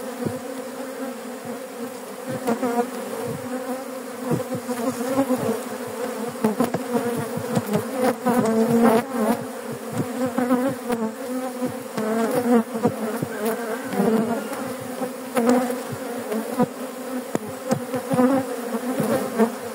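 A large angry honeybee colony swarms during the first hive inspection of the year, a dense, continuous loud buzz filling the air close to the microphone with no talk.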